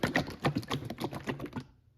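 Bottles of Stihl Ultra synthetic engine oil being shaken close by, a quick run of soft sloshing, knocking pulses, fairly faint, that taper off and stop after under two seconds, with no talking.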